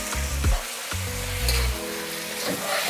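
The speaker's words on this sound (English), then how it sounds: "you want to actually fry it and not cook it" Fried rice crackles and sizzles steadily in a hot pan at close range, with a few louder scrapes and stirring bursts breaking up the continuous frying hiss.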